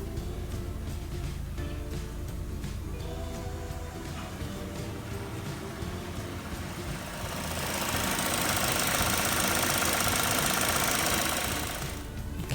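Chevrolet Spin 1.5 engine idling after an oil flush: a steady, close mechanical hum with light ticking, swelling into a louder, hissier roar partway through before easing back.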